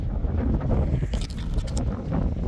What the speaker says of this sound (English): the wind is ridiculous